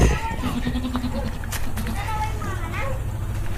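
Goats bleat several times over a constant low rumble of background noise, with someone talking through part of it.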